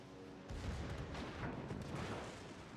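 A dense, continuous rumble of secondary guns firing from the cruiser Alaska in World of Warships, overlapping booms sustained at a moderate level for a few seconds.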